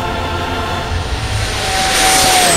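A Freewing F-16 V2 70mm electric ducted-fan RC jet on a 6S setup roars past, its broad steady rush swelling slightly louder toward the end as a thin rising whine cuts across it.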